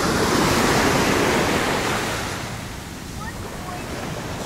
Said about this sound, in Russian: Бьют волны